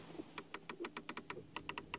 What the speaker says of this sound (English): nice clicking sounds here for the climate unit, manual to control